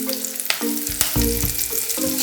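Rasgulla frying in a pan with oil on a low flame, a steady sizzle broken by repeated scraping stirs and clinks of a spoon against the pan.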